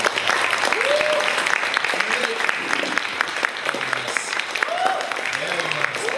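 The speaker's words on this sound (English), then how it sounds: "Ladies and gentlemen, round of applause." An audience at a fan convention gives a full round of applause, dense steady clapping with occasional cheers and voices mixed in, sustained and close throughout.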